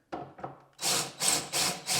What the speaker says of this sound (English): So it helps if you have an electric drill to do this